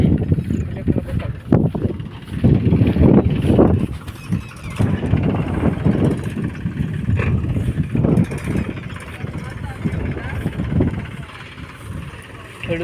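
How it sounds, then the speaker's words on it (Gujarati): A tractor engine runs with a low rumbling drone outdoors in a farm field, uneven and gusty with wind buffeting the microphone, and occasional voices faintly mixed in. "ચાલો મિત્રો આપણે ટ્રેક્ટર શરૂ કરી દીધું."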